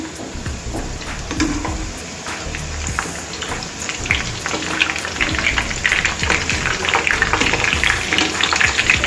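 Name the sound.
onion bread snacks frying in oil on medium flame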